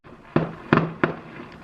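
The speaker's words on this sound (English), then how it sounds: "let's take a look at some fireworks" Three sharp fireworks bangs go off outside a bedroom window, spaced roughly a third of a second apart, each a loud crack with a short decaying tail over low background hiss.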